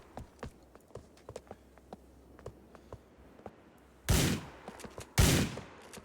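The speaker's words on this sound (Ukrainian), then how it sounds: "Хто це стріляє? Я не бачу, хто це стріляє." Scattered sharp cracks of gunfire in Grand Theft Auto IV, then two loud bursts of shooting near the end, with a muffled, game-like quality.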